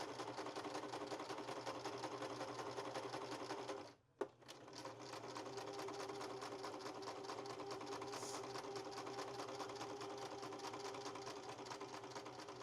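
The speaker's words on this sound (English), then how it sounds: "I'm just gonna sew these together by row" Sewing machine stitching quilt fabric scraps together in rows, a steady fast mechanical whir and rapid needle clatter with a brief pause and restart, running continuously, no voices.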